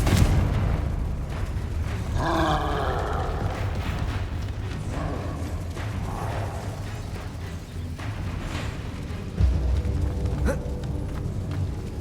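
A Confringo fire spell going off in Hogwarts Legacy, with a deep rumbling burst and crackling blasts over a constant loud low game soundscape and a punchy thump near the end.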